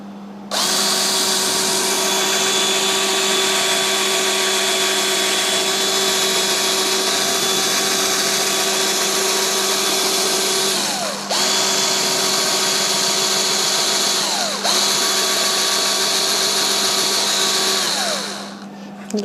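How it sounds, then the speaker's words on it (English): A power drill boring and widening a hole with a larger bit while building a structure; a loud, steady high whine runs continuously, dipping briefly twice as the motor bogs or restarts before cutting off, with no talking. "then start drilling and then make that hole"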